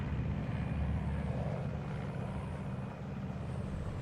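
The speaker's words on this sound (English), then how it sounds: "we're in a plane." Steady, low airplane engine drone inside an aircraft in the video game Metal Gear Solid 3: Snake Eater, a constant rumbling hum throughout with no talking.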